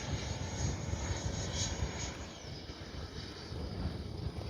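FMS 80mm F-86 Sabre electric ducted-fan RC jet flying past with landing gear down on a windy day, a steady distant whooshing fan roar that swells slightly and fades, with no talk.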